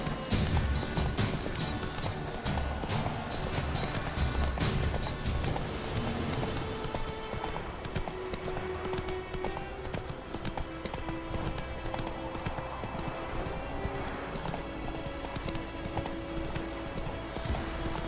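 Roach the horse trotting in The Witcher 3 video game, a brisk, steady clip-clop of hooves heard close, over a busy game soundscape.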